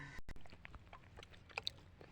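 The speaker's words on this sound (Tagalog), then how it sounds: "kakain muna tayo mga idol" Chewing on a mouthful of fish soup made with freshly caught fish, a few soft, irregular bites and mouth sounds up close, with no talking.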